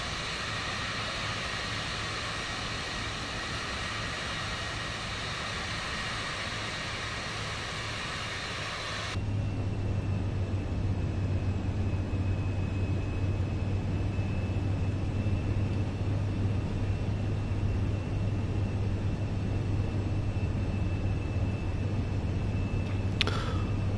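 A light aircraft taxiing on the ground in Microsoft Flight Simulator 2024, a steady engine drone and low hum that switches abruptly to a broader, rougher rumble partway through and holds there, with no voices.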